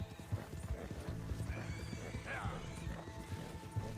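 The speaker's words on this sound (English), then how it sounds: "Whose horse is that?" A horse in Red Dead Redemption 2 clip-clops with steady hoofbeats and gives a clear whinny midway, set under quiet talk and game ambience.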